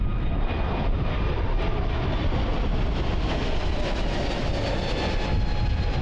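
An MS-21-300 airliner's jet engines roar loud and close in a dense, steady rumble that stays constant for about six seconds, with no voices.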